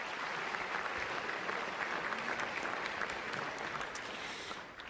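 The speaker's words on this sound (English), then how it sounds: "so give yourselves a round of applause" An evening audience at the American Museum of Natural History gives a dense, continuous round of applause that holds steady before tapering slightly at the end.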